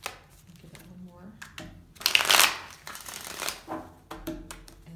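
A deck of tarot cards is shuffled by hand with crisp riffling and flicking bursts, the loudest riffle in the middle, while a person talks softly in between.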